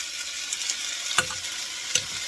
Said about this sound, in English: I did have my pan on. So you can kind of like saute